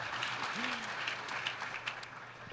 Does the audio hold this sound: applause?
yes